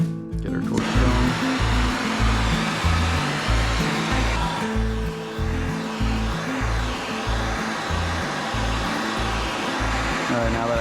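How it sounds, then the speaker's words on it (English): A torch roars steadily, heating a steel rod clamped in a vise for bending into a fishing gaff hook, with a loud, continuous broadband rush and a faint pulsing low drone throughout, no voices. "Get our torch going."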